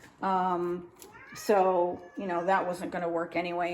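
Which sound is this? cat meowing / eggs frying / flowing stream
cat meowing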